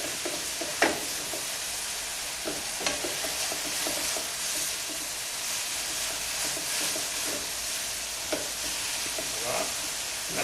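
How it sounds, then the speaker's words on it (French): Onion and garlic frying in a sauté pan, a steady close sizzle with occasional stirring scrapes and light pops throughout, no talking. "on entend un joli bruit de casserole"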